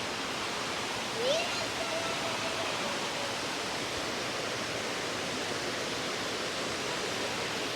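Rampa waterfall in the Maredumilli forest, a steady broadband rush of falling water heard from a distance, constant and unbroken throughout with no voices over it.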